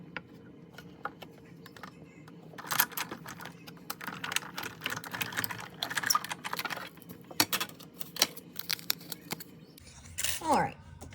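Scissors snip out a folded paper easel card shape, a run of short crisp cuts and paper rustles at close range, irregular in rhythm, ending with a louder rustle of paper being handled.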